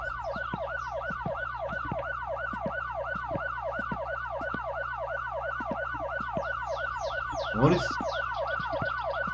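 A police siren in the video game My Summer Car wails, cycling rapidly up and down in a steady rhythm as it approaches, fairly clear and continuous, with a brief louder burst near the end.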